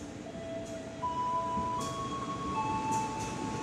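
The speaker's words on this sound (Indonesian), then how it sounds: "Jalur 6, gerakan lokomotif langsir untuk kereta walahar selanjutnya." Shunting locomotive moving along track 6 of an Indonesian station ahead of a Walahar train, a faint distant rumble under steady hiss, with thin high squeals and tones that sound like wheels on rails.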